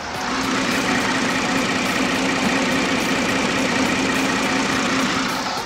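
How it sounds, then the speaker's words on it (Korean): A 2016 large gasoline SUV idles with its bonnet open, a steady, smooth engine hum with low rumble and no belt noise, recorded up close and unchanging throughout. "이 차량 디젤 엔진이 아닌 관리가 쉬운 휘발유 엔진을 탑재하고 있는 만큼 엔진 소음 정말 조용하고 정숙한 차량이고요"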